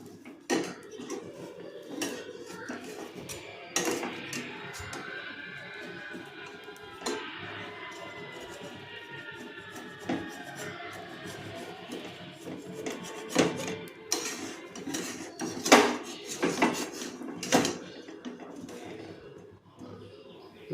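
Metal clatter and scraping from a pan and its lid as appam is lifted out in a home kitchen, intermittent clinks and rasps at close range, with someone talking over them.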